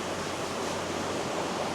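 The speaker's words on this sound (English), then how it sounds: "there's a little waterfall just coming off this little face behind me" A small waterfall spills off a rock face in a New Zealand canyon, giving a steady, even wash of splashing water that holds constant throughout without pauses.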